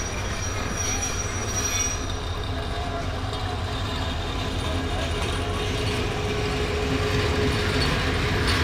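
Two trains, the Mahanagar Godhuli Express and an intercity service, pass together through a station, with a steady loud rumble of railcars, rolling wheels and occasional thin wheel squeal running unbroken throughout.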